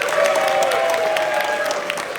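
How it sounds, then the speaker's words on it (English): Audience applause at a community event, a steady mass of clapping hands filling the room with some crowd noise mixed in, continuous and fairly loud throughout. "Can you give a big round of applause to Kandrao, Nar, Yogi, Dr. Brett, Brian, everybody who put together the event."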